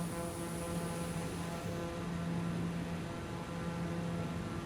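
A simulated aircraft engine drones steadily in Microsoft Flight Simulator 2020 as the plane readies for takeoff, a faint continuous hum with a constant pitch.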